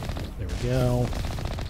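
Rapid gunfire in the video game Mass Effect, a dense burst of close, loud shots packed into under two seconds, with a brief tonal hum partway through.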